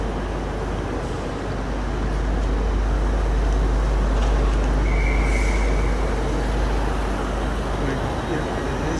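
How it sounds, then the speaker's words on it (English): A train runs steadily on the line to Cottingley, a constant loud rumble and broadband rail roar with wheel noise throughout, heard close from on board. "Right, that's our train to Cottingley."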